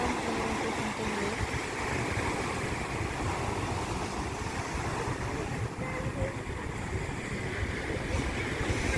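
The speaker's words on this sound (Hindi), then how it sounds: "समुद्र की शांत लहरों को सुनते हुए" Gentle waves washing onto a beach at Pondicherry, a steady broadband surf wash with wind noise buffeting the microphone throughout, continuous and fairly close with no pauses.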